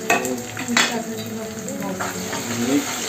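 Chopped tomato and onion masala with salt fries for a wild leafy vegetable dish, a loud close sizzle broken by spatula scrapes and pan knocks, with brief faint voice sounds.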